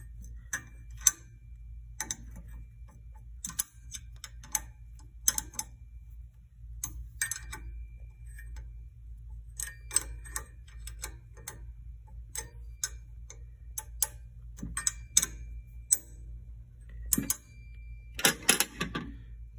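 Bolts on a valve of an Alkin W31 Mariner compressor's third stage being tightened, with a series of small sharp metallic clicks and ratcheting ticks, close and fairly quiet, irregularly spaced over a low steady hum.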